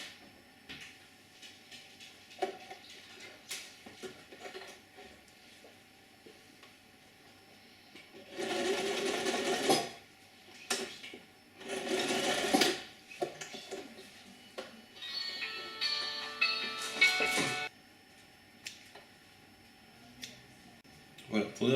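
A sewing machine stitches elastic onto a fabric face mask in three short whirring runs of a second or two each, separated by quiet handling noises and small clicks.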